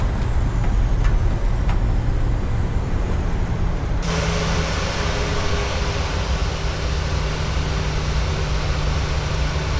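A Boeing 737-800 rolls out on landing in a flight simulator, its engines roaring steadily as reverse thrust comes in. Broadband rushing noise jumps up suddenly partway through and stays loud and constant over a low engine drone.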